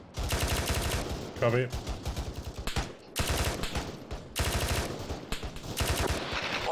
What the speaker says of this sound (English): I think taking a lot of fire.